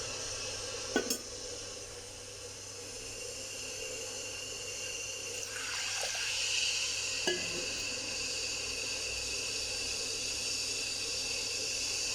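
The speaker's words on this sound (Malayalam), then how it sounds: "ഇപ്പം നല്ലതായിട്ട് തിളച്ചിട്ടുണ്ട്" A buttermilk mixture boils in a pot on the stove, giving a steady bubbling hiss throughout, with a few faint metallic clinks of utensils early on.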